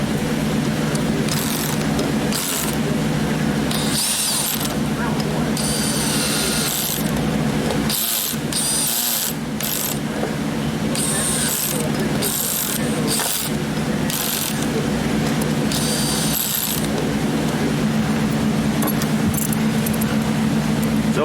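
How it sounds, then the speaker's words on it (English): Ratcheting speed handle on a low torque setting drives screws into an F-4 Phantom model, a steady run of close, rapid clicking bursts separated by short pauses, with no talk over it. "now I'm gonna just run these down, just using my modern speed handle, but I got it on the low torque setting"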